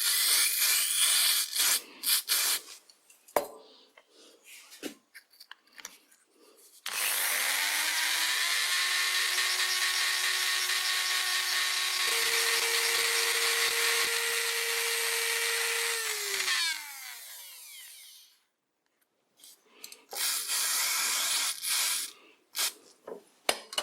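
Stiff brush scrubbing rusty cast iron threads on old Karger sliding spindle parts, a steady abrasive rasp for about ten seconds with a rising whine near its end, framed by scattered handling clatter and scrapes.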